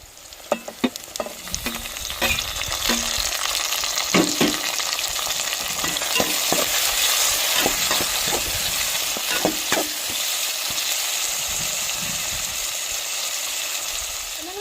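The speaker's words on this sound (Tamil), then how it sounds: "பச்சை மிளகாலாம் எண்ணெயிலே நல்லா வதங்கி வந்துருச்சு" Onions, garlic, tomatoes and green chillies sizzle and crackle in hot oil, a constant frying hiss with occasional stirring scrapes and clinks, close and fairly loud.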